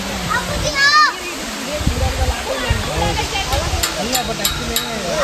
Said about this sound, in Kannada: ನನ್ನ ಬ್ಯಾಕ್ಗ್ರೌಂಡಲ್ಲಿ ಕಾಣ್ತಾ ಇರೋದು ಇರ್ಪು ಜಲಪಾತ